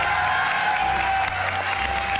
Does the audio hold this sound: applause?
yes